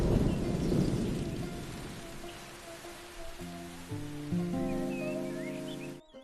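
Rain falls steadily outside with low rumbling thunder through the first half, followed by sustained tonal notes layered over the fading downpour.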